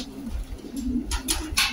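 Loft pigeons just released from their coop give soft, low cooing calls close by, with a few brighter flutters or wingbeat bursts near the end and no talking.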